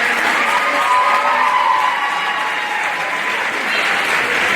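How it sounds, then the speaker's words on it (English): Sustained audience applause at a Mr Hoosac 2022 high school pageant, a dense steady wash of clapping filling the room, loud and continuous throughout with faint cheering tones mixed in. "How about one more round of applause for our former"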